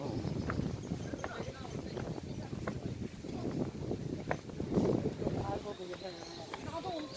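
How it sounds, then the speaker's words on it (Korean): Strong wind rushes through the wind valley on Odongdo Island in Yeosu, a continuous low buffeting roar against the microphone, with people's voices partly heard under it. "바람이 정말 많이 불어오네 이쪽으로 이렇게"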